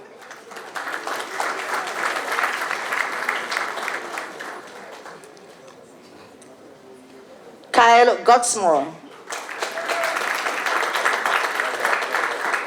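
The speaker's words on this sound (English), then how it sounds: "Graduates, remember to applaud your fellow graduates." Graduates and guests applauding at the Kingston College 2019 graduation ceremony, sustained crowd clapping that dips briefly while a voice on the public address reads out a name, then swells again.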